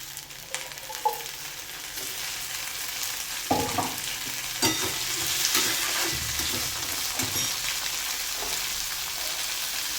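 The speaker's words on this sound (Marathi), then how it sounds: "शेंगदाणे कांदा चांगला परतून घेऊया. आता यात आपण हिरवे वाटाणे टाकून घ्यायचे आहेत." Peanuts, onion and green peas sauté in a pan for buttermilk sooji upma, giving a steady close sizzle broken by stirring scrapes and a few sharp spoon knocks against the pan.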